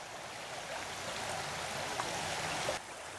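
A creek running strongly in flood after rain, a steady dense rush of water heard up close, with no speech over it.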